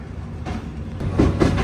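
The Visakhapatnam–Kollam Express runs with a steady low rumble from inside the carriage and rhythmic rail clatter, with no talking.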